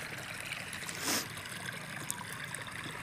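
Water running into a tank at a house under construction, a soft continuous trickle and gurgle, fairly quiet and steady, with one brief louder splash partway through.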